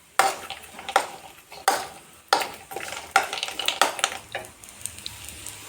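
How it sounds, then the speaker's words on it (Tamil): Cashews roasting in ghee are stirred in a pan, giving repeated close, sharp metallic scrapes and clinks of the spoon over a soft sizzle, roughly one stroke every half second. "நல்லா இந்த முந்திரியை ரோஸ்ட் பண்ணிக்கோங்க"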